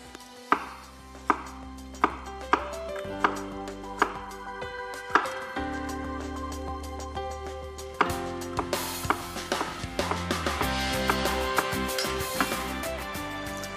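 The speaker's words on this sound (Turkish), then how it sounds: "Şimdi son patateslerimi de doğruyorum." A knife chops potatoes on a board for a Turkish potato pilaki, sharp separate knocks at first, then quicker, busier cuts toward the end, close and clear with no talking.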